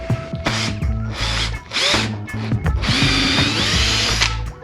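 A power drill whirs in several short bursts and one longer run, drilling with a wood block backing, loud and close, with brief pauses between.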